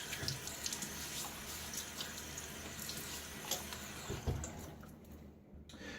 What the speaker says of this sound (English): I'm going to throw some water on my face.